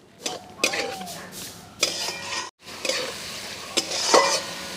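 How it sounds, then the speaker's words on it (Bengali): Rohu fish pieces with ground mustard-poppy paste and slit green chillies sizzle in oil while a metal spatula stirs and scrapes the pan in repeated close clanks, with a short pause midway. "একটু ভালো করে নাড়াচাড়া করে নিয়েছি।"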